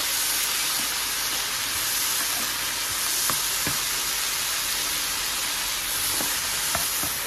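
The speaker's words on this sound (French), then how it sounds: "Et là, je fais griller mes poivrons." Bell peppers grilling in a hot pan for a ratatouille give off a steady, close frying sizzle and hiss, broken by a few small pops and crackles, with no talking.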